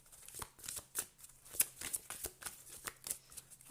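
Oversized tarot cards being shuffled by hand, a rapid series of crisp riffling flicks and slaps in a steady rhythm, close and clear with no talking.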